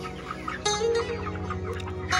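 Broiler chickens about 36 days old cluck and squawk inside a poultry farm in winter, a busy flock close by with scattered sharper calls rising over a constant murmur.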